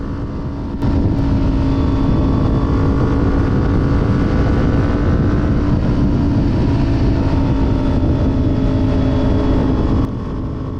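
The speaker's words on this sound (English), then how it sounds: "You can hear that exhaust scream at those higher RPMs." A Kawasaki Ninja 400 motorcycle's steady, loud exhaust roar holds at high revs for the whole stretch on a highway, with wind buffeting underneath and no talking.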